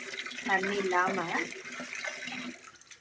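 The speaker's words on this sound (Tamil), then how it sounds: "இன்னொரு தடவை வாஷ் பண்ணிவிட்டு நம்ம எடுத்து வச்சிடலாம்." Running tap water pours over cleaned fish as it is washed in a kitchen, a steady splashing stream that shifts as the fish is moved under it, with a voice talking over it.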